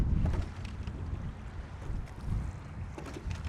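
Steady wind rushes over open water during a rowing race, gusting and buffeting the microphone, with a broad, continuous roar that swells and eases without pause.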